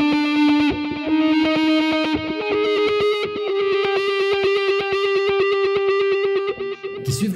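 Sustained electric guitar notes drenched in effects from guitar pedals, with a pulsing rhythmic echo repeating steadily at 225 BPM and a lush reverberant wash throughout.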